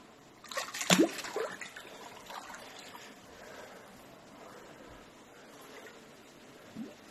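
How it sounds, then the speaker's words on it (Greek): Floodwater trickles inside a flooded house in Palamas, Karditsa, with a brief louder splash near the start and then a quiet, steady watery dribble. "Το νερό"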